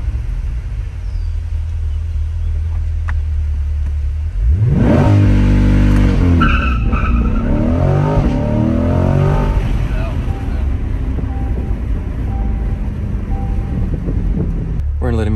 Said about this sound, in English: you're pretty much gonna only do a rolling burnout